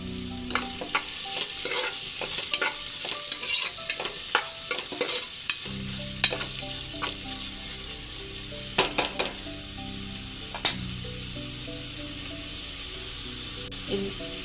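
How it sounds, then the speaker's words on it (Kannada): Chopped onions fry in a pan for pulao, a steady close sizzle broken by repeated scraping stirs and clinks of a spoon, with the frying noise growing thicker partway through. "ಆಮೇಲೆ ಸ್ವಲ್ಪ ಈ ಕಟ್ ಮಾಡಿ ಇಟ್ಕೊಂಡ ಈರುಳ್ಳಿಯನ್ನು ಹಾಕಿ ಫ್ರೈ ಮಾಡಿಕೊಳ್ಬೇಕು"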